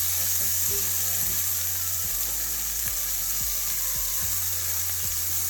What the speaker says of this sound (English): So what I'm doing now is sauteing some asparagus